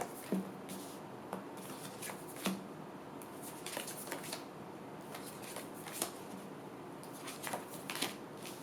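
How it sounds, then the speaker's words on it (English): Tarot cards are shuffled in a steady run of soft riffling and tapping clicks, quiet and close, continuing for several seconds without talking. "so last shuffle"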